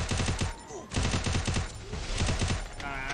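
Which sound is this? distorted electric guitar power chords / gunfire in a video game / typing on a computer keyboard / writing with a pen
gunfire in a video game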